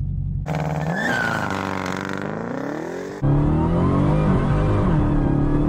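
A Dodge Demon muscle car launching hard in launch mode on a runway, its engine roaring loud and close as it revs, the tires spinning and squealing, then the engine note dropping into a rising pull after a gear change.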